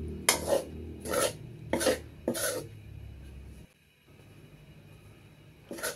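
A spoon scrapes through flour frying in ghee in a pan for coconut black barfi, in four steady rasping strokes and then a pause before another stroke begins.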